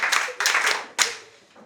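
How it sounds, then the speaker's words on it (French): A classroom of students breaks into two short bursts of clapping, each quickly fading, with a brief sharp clap near the end; a few voices mix in. "Applaudissez pour vous."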